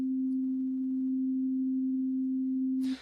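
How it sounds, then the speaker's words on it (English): Pure sine wave tone holds a single steady low pitch for about three seconds, loud and unwavering, then cuts off abruptly with a brief click. "So we see how all this functions with a simple sine wave and sawtooth waveform."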